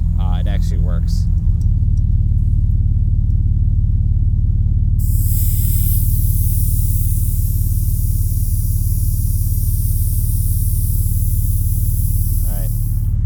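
Air hisses out of a Jeep TJ tire being drained. A loud, steady, close rush of air breaks in partway through and holds over a low rumbling background until it cuts off near the end.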